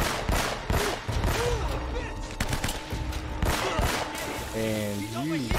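Rapid gunfire bursts in Uncharted: Drake's Fortune, dense repeated shots running through the whole stretch with a pitched voice-like tone near the end, under busy game action.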